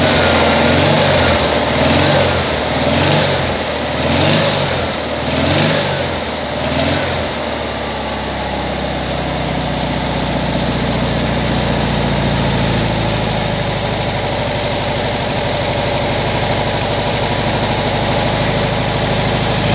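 Vintage air-cooled VW Beetle engine running on a test bench with a new Kuhltek distributor, opening with several quick revs that settle into a smooth, steady idle, loud and close with no voices.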